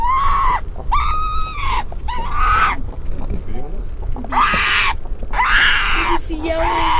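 A marmot in Rocky Mountain National Park gives several loud, shrill calls in separate bursts, each rising and bending in pitch, with short pauses between and a steady outdoor hiss underneath.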